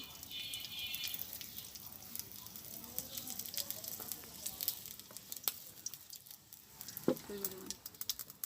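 Two cumin seeds dropped into hot oil in a wok crackle and spit softly in a village kitchen, quiet irregular pops over a low hiss, with faint background sounds.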